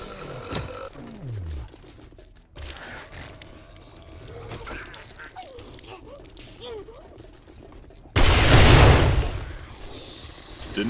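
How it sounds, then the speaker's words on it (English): Video game grenade blast: after a stretch of muffled game noise, a loud, close explosion bursts out with a heavy rumble that fades over a couple of seconds. "Oh, wait, grenades."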